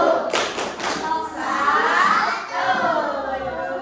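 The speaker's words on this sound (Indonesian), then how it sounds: "Kasih tepuk tangan buat kelompok 1." Classroom of schoolchildren clapping for a group of pupils during a fifth-grade maths lesson, a burst of hand claps with a few thuds and children's voices shouting over it.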